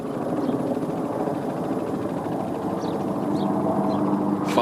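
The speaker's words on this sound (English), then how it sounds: "There's 2 Apache helicopters and an A-10 tank buster." Two Apache attack helicopters fly overhead providing air support in a combat zone, a loud continuous rotor drone filling the air without a break.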